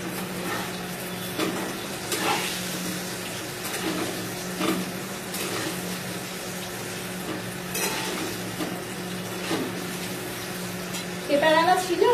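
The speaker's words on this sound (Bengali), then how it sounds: "আলুটা এই যে লাল লাল করে ভেজে নেব।" Potatoes fry in a pan, giving a steady low sizzle with occasional stirring and utensil clinks against the pan, and faint background talk drifts in and out.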